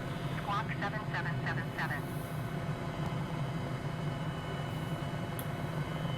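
Helicopter in a flight simulator game cruising over the Kaimanawa Ranges, a steady low rotor and engine drone that stays constant throughout, with a voice talking over it.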